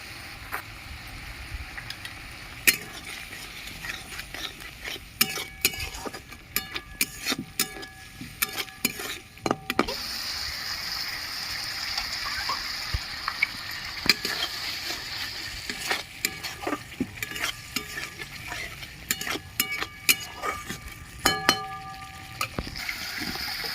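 Spice paste and cashew paste are sautéed in a pan for a prawn-stuffed pointed gourd dish, with a continuous frying sizzle and repeated scraping and knocking of a spatula, close and fairly loud throughout.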